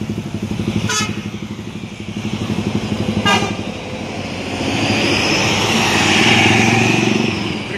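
NPM and ANS intercity buses racing each other along a road near a junction, with a loud droning engine roar that swells as one passes close, two horn blasts early on.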